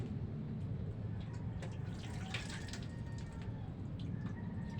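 Leftover water is poured out of a kettle, making a steady, close, rushing stream that runs unbroken for the whole stretch, with no talking over it.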